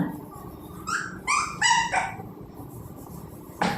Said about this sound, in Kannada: ನಮ್ಮ ನಾಯಿ ಒಂದು ಮರಿ ಹಾಕ್ಯಾವ್ರಿ, ಎಲ್ಲ ಆವಾಜ್ ಮಾಡಕತ್ತಾವ.